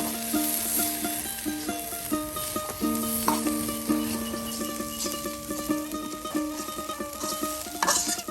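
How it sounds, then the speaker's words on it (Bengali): Crisp, crackling sizzle of frying in a pan while food is stirred, with steady close bubbling and scraping strokes, on a rural Bengali kitchen stove during iftar cooking of lentil fritters and eggs. "এই দেখুন একদম মশমশা ভাজা"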